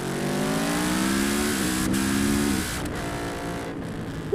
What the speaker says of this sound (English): I bought something with possibly the greatest soundtrack of any modern motorcycle